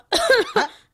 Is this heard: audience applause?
no